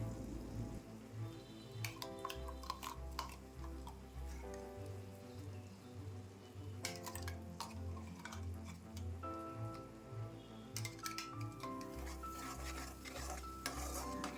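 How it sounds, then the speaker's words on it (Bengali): Pointed gourd paste cooks with ginger, onion, garlic and spices in a pan while a spatula scrapes and stirs in repeated bursts over a soft sizzle, with a low droning hum underneath, faint and fairly close. "পটল বাটা মশলার সাথে খুব ভালো করে মিশিয়ে নিয়ে"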